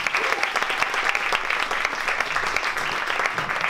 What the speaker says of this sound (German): Nochmal einen riesen Applaus.